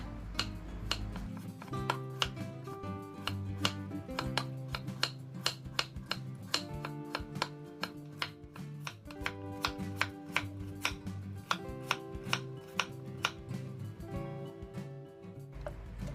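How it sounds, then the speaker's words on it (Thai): A knife chops cassava into small pieces against a cutting board in a quick, steady rhythm, with soft music playing underneath throughout. "จากนั้นนำมาหั่นเป็นชิ้นเล็ก ๆ เพื่อเตรียมนำไปปั่นให้ละเอียดค่ะ"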